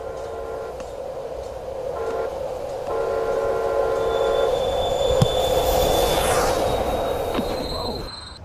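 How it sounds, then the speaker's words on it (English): A train rolls past on a rail track, a steady loud rumble that swells as it goes by, with a brief metallic wheel squeal near the end before it cuts off. "Look! The train!"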